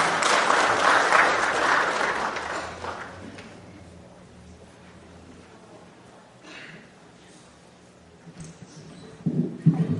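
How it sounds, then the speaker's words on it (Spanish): An audience claps loudly at the opening of a panel session at a conference, the applause dense at first, then fading away into a quiet room with a few soft noises. "damos las fuertes palmas para el inicio de esta cuarta mesa"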